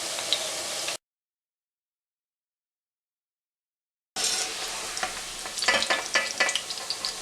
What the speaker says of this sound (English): The fish sausages have been fried, and they have to be fried in medium flame